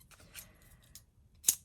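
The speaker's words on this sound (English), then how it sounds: "And need some scissors as well." Scissors handled at a papercraft desk during card making, a few faint snips and clicks with a sharper, louder snip near the end, no talking.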